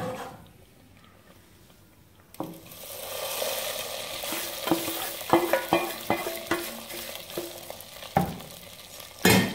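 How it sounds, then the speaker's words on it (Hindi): Garlic-ginger paste and green chili tempering sizzles loudly as it is stirred into cooking sarson ka saag (mustard greens), with steady frying hiss and repeated clinks and scrapes of a spoon against the pan, after a quiet opening. "लहसुन अदरक का पेस्ट और हरी मिर्ची का तड़का हमारा रेडी हो चुका हुआ है। अब शामिल करेंगे साग के अंदर।"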